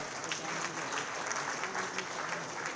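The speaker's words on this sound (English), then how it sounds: "I think a huge applause should be given to our Honorable Chief Minister from all of us." Steady applause from an audience at a Maharashtra Maritime Board event, honouring the Chief Minister; dense, continuous clapping fills the whole stretch at even loudness.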